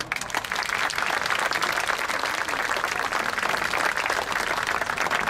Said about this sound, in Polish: że wielkie brawa.